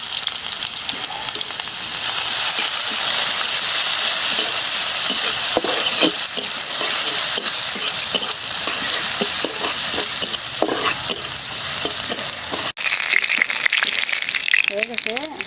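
Garlic, onion and torn dried chilli fry in oil in a pan, a continuous loud sizzle with scraping stirs throughout and a brief clatter near the end.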